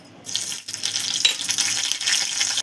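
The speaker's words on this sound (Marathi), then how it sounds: "मोहरी टाकून घ्यायची आहे" Mustard seeds sizzle and crackle in a small spoonful of hot ghee, a steady bright frying hiss with fine popping, close and fairly loud, with no voices over it.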